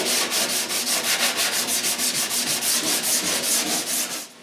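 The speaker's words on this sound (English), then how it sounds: "Then I sand the sharp corners." Sanding the sharp corners of a wooden pantry shelf: rapid, regular back-and-forth rasping strokes, close and clear, continuing steadily with no voices.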